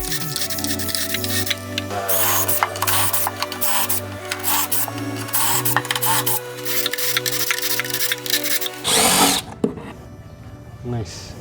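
A Ryobi Kyocera XR impact driver runs in loud, close bursts of whirring and hammering, with a shifting motor drone under rapid clicking. The bursts stop near the end.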